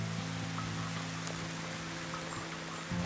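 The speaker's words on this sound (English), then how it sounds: "now it's started to pour down with rain and it's really coming down heavily" Heavy rain pours down steadily at a fishing spot in wild, windy weather, a dense, even hiss that fills the whole three seconds with a low steady hum beneath it and no voices.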